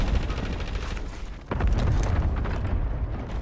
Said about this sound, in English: I'm already getting shot.